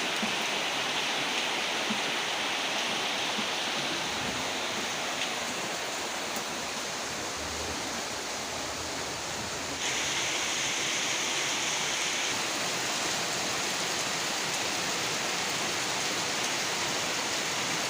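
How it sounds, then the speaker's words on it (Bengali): Steady, dense wash of daytime rain falling, a constant broadband hiss with no breaks, fairly loud and uniform throughout with no voices. "বৃষ্টির আওয়াজটা শুনতে কার কার ভালো লাগে"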